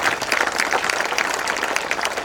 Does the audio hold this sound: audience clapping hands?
yes